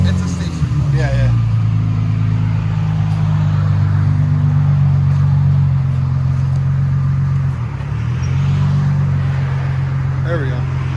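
A 2005 Infiniti G35 with a stick shift and DTM muffler exhaust idles and backs out with a deep, steady low rumble, close and loud, with a brief dip in engine note.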